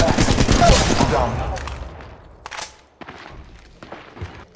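Rapid gunfire from the video game Apex Legends bursts loudly at the start, then fades into scattered shots and impacts, with game voice lines mixed in.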